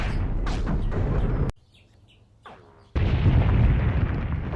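Mortar shells explode in a WW2 battle game set at El Guettar, Tunisia, with loud, dense booming rumble, a brief quiet gap, then another heavy sustained blast.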